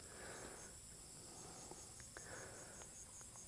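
Crickets chirp steadily in grass in hot Thai countryside, a dense high-pitched insect drone with a few brief sharper chirps breaking through, fairly quiet and continuous with no voices.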